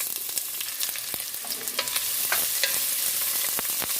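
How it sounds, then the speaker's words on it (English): Onions sauteing in oil over medium-high heat for pickled jalapeño escabeche, a close steady sizzle with crackling pops and occasional stirring scrapes that grows slightly louder midway. "We're going to add the onions and saute them for 2 minutes."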